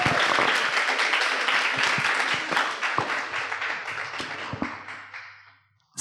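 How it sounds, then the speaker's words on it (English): Audience applause welcoming a panelist onto a stage, many hands clapping at once, fairly close and lively at first, then thinning into scattered claps and fading to silence. "please give her a warm welcome and round of applause"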